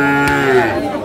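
A Sahiwal calf at a cattle market gives a single close, loud moo that rises and falls over about a second, with faint chatter in the background.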